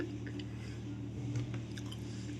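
Close chewing of a home-cooked Bengali lunch with lentil dal, soft squishy mouth sounds repeating steadily for a few seconds, quiet and alone with no talk.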